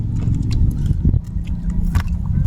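Close, crunchy chewing of fried food with irregular crisp bites and a heavy low mouth rumble, no talking.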